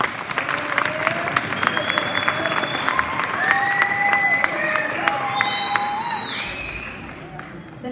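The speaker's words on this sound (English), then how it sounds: "Let's give them a big round of applause." Graduation audience applauding the seniors, a steady wash of clapping with some cheering and crowd voices mixed in, holding at an even level before fading near the end.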